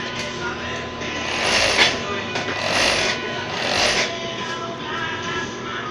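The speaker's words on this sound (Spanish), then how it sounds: "Vamos a apretar un poquito este y vamos a ver cómo nos, nos cose en la lecra" A Hercules five-thread overlock machine stitches lycra, its rapid mechanical clatter swelling in several loud bursts with brief easings between, close and continuous, without talk.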